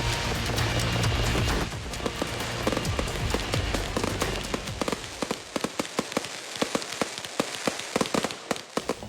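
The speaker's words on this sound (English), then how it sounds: "the fireworks show in Shorewood Hills earlier tonight" Fourth of July fireworks show at Shorewood Hills, a dense roar of crackling bursts giving way to rapid, sharp distant pops and crackles in an irregular stream, with no voices.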